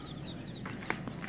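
Several tiny chicks peep in high, thin chirps at a Tractor Supply store, overlapping in quick bursts against a low background hum.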